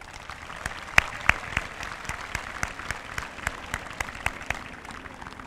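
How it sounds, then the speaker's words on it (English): Audience applause at a 2022 graduation ceremony: a steady wash of many hands clapping, with a few louder individual claps standing out near the front, continuous throughout. "Give yourselves a round of applause."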